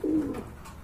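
Full Shartin pigeons at a seller's stall give a low, soft coo close by, a single throaty call that fades over a faint background murmur.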